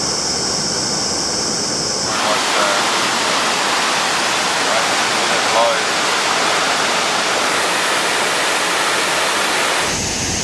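Tad Huang Waterfall on the Thailand–Laos border in Loei, a loud, continuous rushing roar of falling water heard close up, shifting slightly in tone a few times but never letting up.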